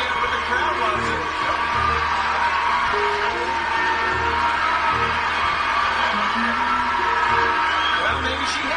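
Crowd cheering at the 2003 Westminster dog show Best in Show judging in Manhattan, a broad arena roar of whoops and applause that sustains throughout, mixed with an announcer's voice talking over it.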